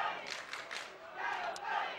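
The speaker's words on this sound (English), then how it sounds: "That'll get the crowd involved." A football crowd cheers after a Sturt goal in a SANFL match against Glenelg, a broad, distant roar of voices that swells and rises toward the end.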